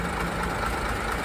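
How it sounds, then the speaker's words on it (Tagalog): An Isuzu 6HK1 truck diesel engine keeps running after a hard start, giving a steady, dense, close rumble without pauses and no voices over it. "Umandar yung makina."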